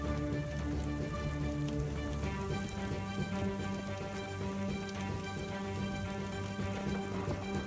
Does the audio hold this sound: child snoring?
no